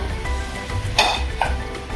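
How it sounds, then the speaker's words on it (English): Pork pieces go back into a deglazed pan for spicy garlic pork, giving a steady close sizzle with a sharp burst of sizzling and clinking about halfway through, then a quieter clink of utensils. "I'm going to add my pork pieces back to the pan."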